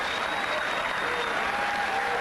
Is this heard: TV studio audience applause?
yes